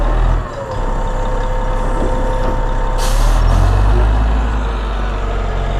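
Tow truck turning around and backing up toward an off-highway truck, a loud steady diesel rumble with faint reversing tones and a short hiss of air partway through, close by, no talking.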